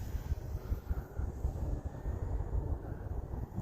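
An Eachine Mini BF109 400mm RC warbird passes at full throttle, a faint, distant, low rumbling drone heard outdoors under wind noise for a few seconds.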